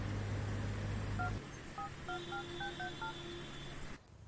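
A telephone keypad dials a number in a film scene: a string of short, evenly spaced beeping tones follows a brief low hum, fairly quiet against a hissing background with no voices.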